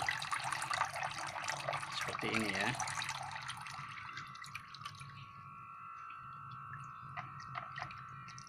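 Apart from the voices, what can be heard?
water pouring through potted Monstera adansonii soil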